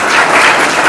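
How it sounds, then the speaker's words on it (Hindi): A short burst of loud audience clapping at a public stage event, welcoming a young woman honored by a member of parliament, dense and steady for about a second. "बेटी के लिए जो है जोरदार तालियों के साथ स्वागत करना चाहता"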